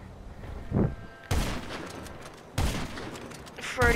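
Bursts of video game gunfire ring out in quick volleys, loud and close, with several sharp clusters of shots spaced a second or so apart and a brief tonal effect between them.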